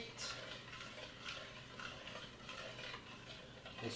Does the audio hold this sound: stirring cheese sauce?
yes